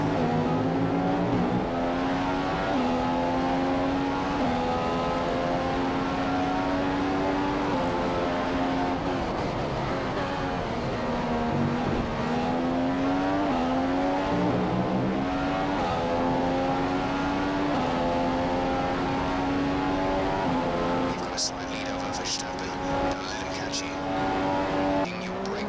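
F1 race car engine in the F1 2015 game, cockpit view at Bahrain, screaming steadily with rising and falling gear-shift pitch sweeps as the car takes corners, with someone talking over it throughout.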